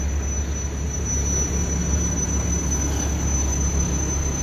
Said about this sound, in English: these articulated buses, I think, are the closest things that you can get to